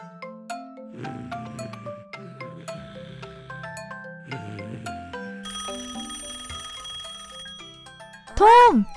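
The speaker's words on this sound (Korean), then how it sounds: "일어나. 전화 왔어." A telephone rings with a bright trilling bell near the end, following a stretch of light cartoonish music with plinks and chimes, in a children's cartoon about vehicles.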